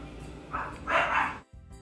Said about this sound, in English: And sorry about my dogs.